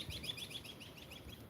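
A songbird gives a quick run of faint, repeated high chirps, soft and distant, over a low background murmur with no talk.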